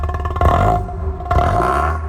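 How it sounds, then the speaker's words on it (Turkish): A Tofaş car with a Konya-style exhaust, out on a snowy drive, revs twice in quick succession, each loud burst of the engine swelling and fading with a rough, rattly exhaust tone close by. "Size biraz Konya egzoz dinleteyim."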